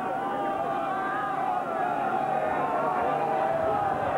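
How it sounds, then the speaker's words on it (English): Roaring racecourse crowd at the 1993 Grand National, a dense continuous hubbub of many voices swelling loudly and steadily throughout, with no single voice standing out. "And this noise from the crowd"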